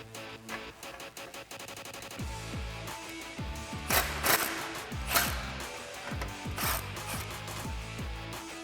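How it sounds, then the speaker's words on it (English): A hand ratchet with a 15mm socket loosens a front exhaust clamp on a 2015-2017 Mustang GT, giving rapid, close metallic clicking in repeated bursts of short back-and-forth strokes. "we need to loosen this front clamp using our 15mm socket"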